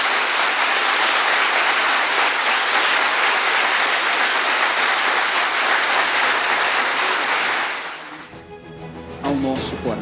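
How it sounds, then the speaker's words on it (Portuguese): A church congregation at a praise and worship service applauds in a loud, sustained roar of clapping for about eight seconds, then it drops away abruptly and a voice with music follows. "Despeça do amigo em casa aplaudindo a Jesus."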